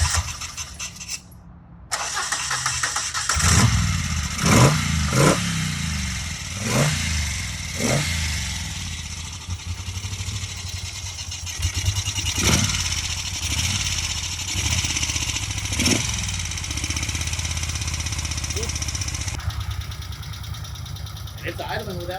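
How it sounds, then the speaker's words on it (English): A 1978 Moto Guzzi 850 LeMans motorcycle engine with manual petcocks fires up after a brief silence and settles into a steady, close idle with a series of sharp revs or pops, while a person talks over it. "It's idling without choke right now"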